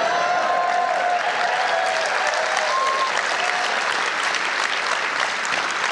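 An audience at the 2024 Ambies awards show applauds in a steady, dense wash of clapping that fills the whole stretch without a pause.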